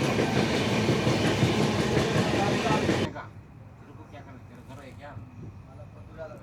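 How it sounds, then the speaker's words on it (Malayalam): Jalna–Raichur Express passenger train rushing past loudly at close range for about three seconds, then cutting off abruptly to quieter background with faint voices talking. "ജാൽന രായച്ചൂർ എക്സ്പ്രസ് ആയിരുന്നു അത്."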